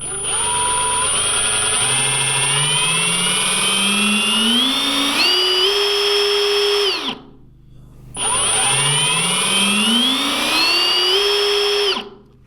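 A Milwaukee cordless drill whines up from low to high speed, holds, stops, then ramps up again in a second run, loud and close.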